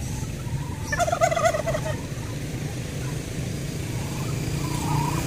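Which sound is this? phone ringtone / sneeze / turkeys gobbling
turkeys gobbling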